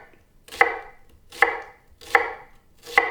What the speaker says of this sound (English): Now we chop the onion.